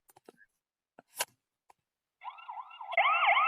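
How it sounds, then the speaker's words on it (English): A COCOCAM indoor security camera sounds its siren, a loud wailing tone that sweeps up and down and cuts in after a few scattered clicks and taps, growing louder toward the end. "There's a siren that you can put on."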